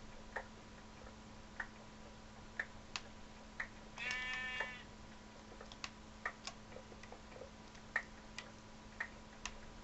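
A sheep bleats once in the Minecraft video game, a brief wavering cry midway through, set against a quiet ambient hum and a steady series of soft clicking ticks.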